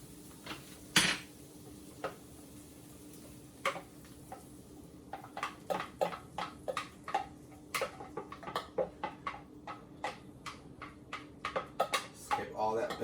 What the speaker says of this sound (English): Scrape all that batter out of there.